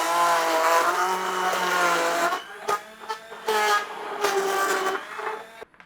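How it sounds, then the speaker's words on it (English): A high-speed hand blender whirs loudly and steadily through tomato pieces mixed with washing-up liquid and salt, the motor pitch dipping as it labours, then breaking into short bursts of pulsing before cutting off. "This is a really high speed hand blender"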